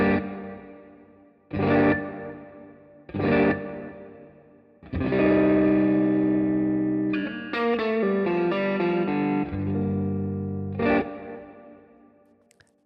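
Electric guitar recorded with a reverb plugin set to 20% mix and a two-second delay, playing several struck chords that ring and decay, then a longer sustained chord with a quick melodic run on top, loud and lush with no talking.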